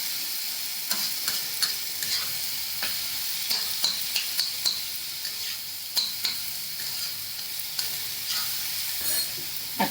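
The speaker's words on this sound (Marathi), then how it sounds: "कांदे चांगले शिजू द्यायचे कांदा टोमॅटो वगैरे पाठीचा कांदा आहे ना तो शिजून द्यायचा" Spring onions, onion and tomato fry in a pan with a steady sizzle, punctuated by regular scraping clicks of stirring throughout.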